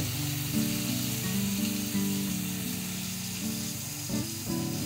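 Jilebi fish fries in hot oil with a loud, constant sizzle and crackle, lasting throughout alongside a low hum.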